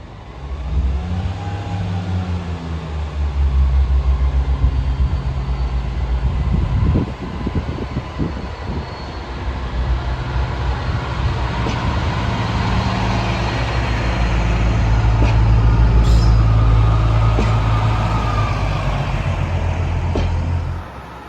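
A Pacer railbus on a British line pulls away with a steady low diesel engine rumble and throb that swells toward the end, close and loud, with no talk.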